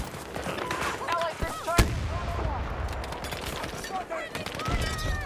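Rapid gunfire and heavy artillery-like blasts from the video game Battlefield 2042, with a sharp close shot standing out over dense battle noise while players talk.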